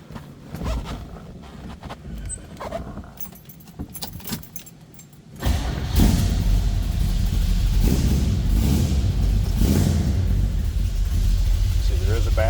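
A 1971 Chevrolet Nova two-door sedan set up as a drag-style car cranks and fires up from a cold start, then settles into a loud, steady rumbling idle after quieter clicks and rustling in the cabin.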